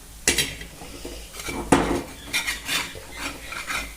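Methi thalipeeth being flipped on a griddle, a few sharp metallic scrapes and clinks of a spatula against the pan, irregular and close, with no talking.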